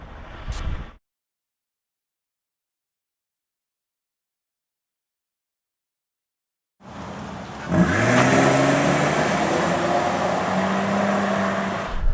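A 2014 Nissan Pathfinder engine idles after a remote start, with a steady, close mechanical hum that rises slightly in pitch. A short burst of sound comes first, then a long silence before the engine is heard.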